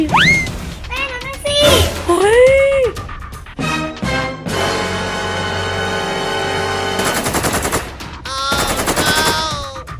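Rapid machine-gun bursts from a tank-headed Siren Head in a video game, loud and repeated in short volleys, mixed with other game effects and voice-like sounds.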